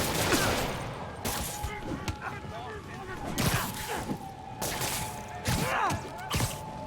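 Gunfire in the Spider-Man Remastered video game: repeated sharp bursts crack out in clusters over several seconds, loud and close, with game voices and background score running beneath.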